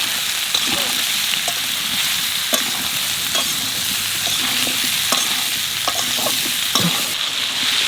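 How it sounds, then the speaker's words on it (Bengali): Taro pieces stir-fried in a pan with salt and turmeric, a steady close sizzle under repeated scraping and stirring strokes of a utensil, with no talking. "কচু ভালো করে বাজিয়ে নিছি,"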